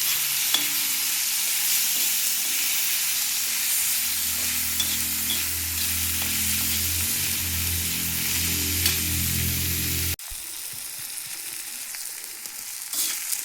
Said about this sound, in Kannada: ಚೆನ್ನಾಗಿ ಎಲ್ಲ ಎಣ್ಣೆಯಲ್ಲಿ ಚೆನ್ನಾಗಿ ಇದನ್ನು ಫ್ರೈ ಮಾಡಿಬಿಡೋಣ ರೀ.